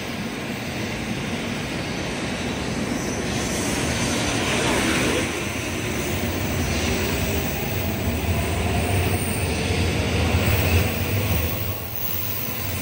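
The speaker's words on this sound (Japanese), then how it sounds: "今から走るこの列車は JR 九州の R11 編成、" JR Kyushu R11-set Sakura 560 Shinkansen train at Okayama Station on the Sanyo Shinkansen line makes a loud, steady, broad roar that builds and swells for several seconds on the platform.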